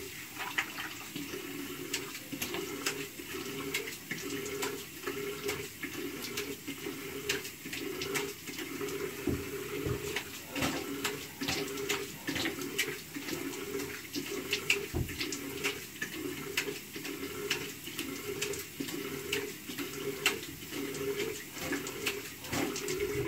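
Warm water runs steadily from a bathroom tap for wetting the cheeks before a shave, heard as a continuous close splashing hiss with small irregular drips and splashes throughout and no talking.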